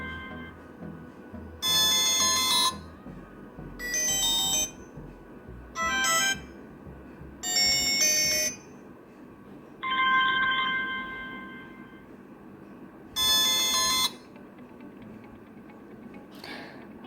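Smartwatch playing a series of ringtones one after another, six short bright electronic bursts of a second or so each with quiet gaps between, close and clear.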